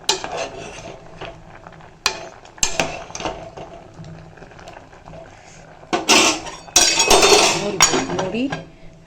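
Cooked vegetables stirred in a metal pot, with scattered clinks and scrapes of a ladle against the pot, growing busier and louder toward the end, while a person talks throughout.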